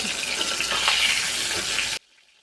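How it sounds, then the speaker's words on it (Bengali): Eggplant pieces frying in hot oil for a Bengali small fish curry, giving a loud, bright, hissing sizzle close by that runs steadily for about two seconds and then cuts off abruptly to near silence. "বাদবাকি বেগুনগুলো ভেজে তুলে নেবো"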